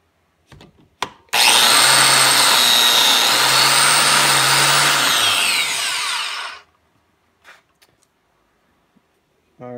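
A Ryobi biscuit joiner spins up with a high whine and cuts into wood for about five seconds, loud and close, then winds down to faint clicks and handling noises.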